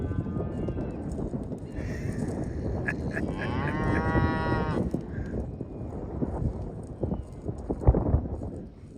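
Mashona cattle, a cow and two heifers, lowing in a farm setting, with several drawn-out moos, some near and loud, over a constant background of shuffling and movement.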